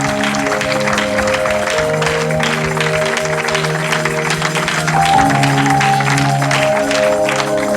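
A church congregation applauds steadily and loudly for several seconds, a dense wash of clapping under sustained organ or keyboard chords with no pause.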